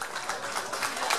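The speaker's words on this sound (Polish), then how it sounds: "Prosimy o gorące brawa." An audience at a chicken-soup festival in Łapanów applauds a welcomed guest, a dense, even wash of hand claps that holds steady at moderate volume through the short stretch, without rising or fading.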